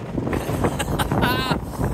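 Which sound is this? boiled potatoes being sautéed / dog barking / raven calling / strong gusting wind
strong gusting wind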